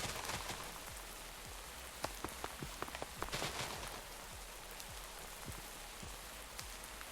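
Rain pours down in Minecraft with the MC Eternal modpack, a dense continuous patter of drops hitting surfaces, with scattered sharper individual drop ticks over a steady wash of noise and no talking.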